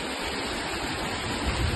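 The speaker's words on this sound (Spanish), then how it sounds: "Cascadita. Obviamente esto tiene que ser mucha el agua para que se haga esto." Small waterfall cascade at Los Chorros in the Huasteca, heard as steady, broadband rushing water that stays even and close for the whole short stretch, with no voices.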